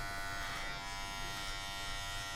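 Electric hair clippers fitted with a number 2 guard, cutting hair on a balding man, giving off a steady, close, continuous motor buzz with no talking.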